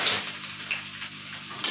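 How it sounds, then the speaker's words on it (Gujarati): Green chili and curry leaves with mustard seeds sizzle steadily in hot oil for khandvi tempering, a bright continuous crackle close up with no voice. "રાઈ તતડે એટલે 1 લીલું મરચું એડ કરીશ અને 3 થી 4 મીઠા લીમડાના પાન એડ કરીશ"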